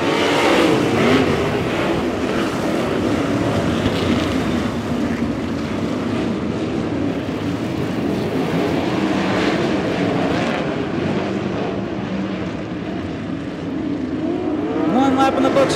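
Sprint cars roaring around Valley Speedway after the green flag, a continuous loud engine drone with rising and falling revs as the pack passes, and a commentator talking over it.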